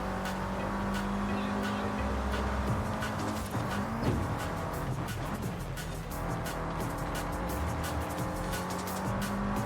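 A race car is driven in Forza Horizon 5 during a dune-themed event. A steady engine drone with tire noise continues throughout, with brief shifts in pitch as the car accelerates and turns.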